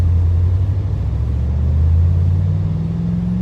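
A car pulling away in lunchtime traffic, a loud, close, low engine rumble rising steadily in pitch as it accelerates.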